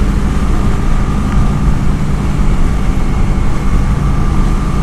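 Kawasaki Vulcan 900 Custom motorcycle cruising on the highway in top gear at low RPM, a steady, loud low drone blended with dense wind roar, unbroken throughout.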